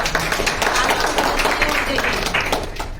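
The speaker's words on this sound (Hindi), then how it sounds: "देखिए कितने अच्छा, कितने सारे शब्द निकाले अपने तालियां बजाइए जोर से।" Loud applause from a group of adult learners in a Hindi literacy class, dense clapping filling the whole span with a voice over it.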